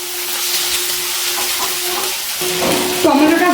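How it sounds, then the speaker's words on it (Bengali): Chopped tomato fries in a pan on the stove, a close steady sizzle with stirring scrapes, the hiss growing louder and brighter toward the end. "খুব ভালো করে নাড়াচাড়া করে টমেটোটা ভালো করে ভাজা করে নেব।"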